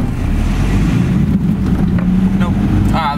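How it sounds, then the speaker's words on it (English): A loud engine from a truck parked close behind rumbles steadily in an outdoor setting, a heavy low drone with wind buffeting the microphone and a brief voice near the end. "some guy's got a loud engine right behind me"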